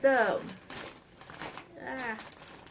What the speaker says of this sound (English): for the crinkling. We've had moths in the house, so everything has been in a Ziploc bag